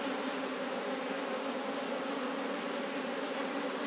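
Honeybee foragers buzzing steadily inside a hive in wet weather, a dense continuous drone holding at an even level throughout with no voices.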